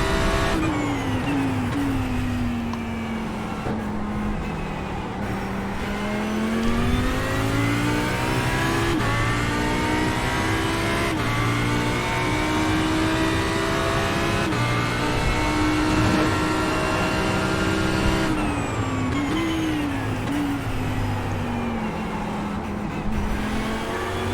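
Race car engines roar continuously in a racing game at Daytona, a loud sustained drone whose pitch climbs and dips with gear changes as the cars run at speed.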